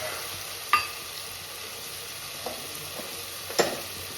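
A hot pan sizzles softly as potatoes and pav bhaji masala go in, with a few sharp clacks of a spoon against the pan over a steady low hiss.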